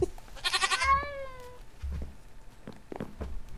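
A goat in the video game Minecraft lets out a single wavering bleat in the first second and a half, followed by soft footstep-like thumps and quiet game ambience.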